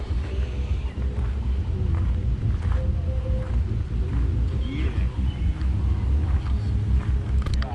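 A loud car rumbles nearby on a country road by an old grist mill, its low engine drone filling the whole stretch with steady wind-buffeted noise and no clear pass-by peak.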